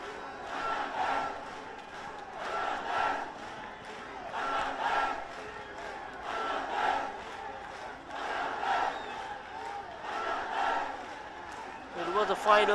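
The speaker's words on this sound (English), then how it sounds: "Now the Bangladesh fans still cheering on." Bangladesh fans roar and chant in a stadium during the SAFF U20 Championship final against India, a distant crowd swelling in rhythmic waves of cheering roughly every two seconds, with no clear talk over it.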